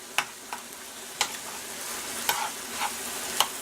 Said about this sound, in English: turkey is cooking pretty good here